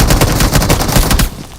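Sustained rapid automatic gunfire from a video game, loud and dense, rattling continuously before cutting off near the end.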